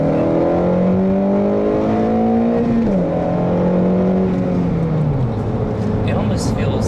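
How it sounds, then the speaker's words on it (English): Steady engine drone from an Acura ILX, with pitch that rises and then steps down at least twice, heard close from inside the car under talk. "who wants to rev up their luxury car all the time to get it to go"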